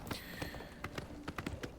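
Horse hooves clip-clop in a quick, uneven rhythm of sharp, close taps while a horse is ridden in the video game The Elder Scrolls IV: Oblivion.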